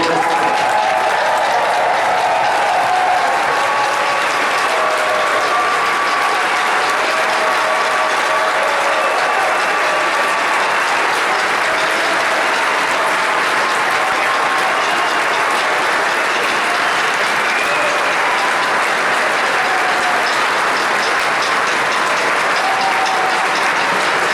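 A large crowd at a baseball park event rises for a standing ovation, loud sustained applause with cheering that holds steady and unbroken for over twenty seconds.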